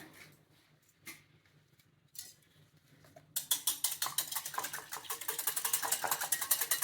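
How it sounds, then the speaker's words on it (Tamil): One egg whisked in a bowl for rice flour marble dough. A few scattered taps come first, then rapid, loud, rhythmic beating strokes continue close up and alone. "இதை நல்லா பீட் பண்ணி வச்சுடுங்க."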